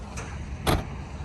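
The fully electric retractable tow hook on a 2021 Mercedes E63S AMG sedan gives a short mechanical whirr and clunk, close by and moderately loud against a quiet background.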